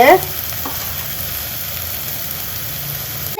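Squid masala with pepper powder being stirred in a pan, a steady low sizzle and scraping running throughout with a brief louder clatter at the start, no voices.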